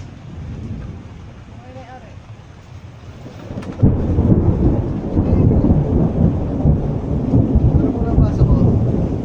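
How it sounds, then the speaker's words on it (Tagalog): Steady heavy rain pours down, joined by rumbling thunder; the downpour grows louder and denser midway and stays intense to the end. "biglang bumuhos ang ulan, bumagyo"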